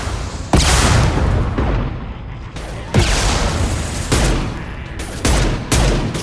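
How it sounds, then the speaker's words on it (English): Heavy gunfire and booming impact shots in the Mass Effect 2 video game, a loud, dense barrage of repeated blasts and bursts that fills the whole stretch with no voices over it. "Firing an impact shot!"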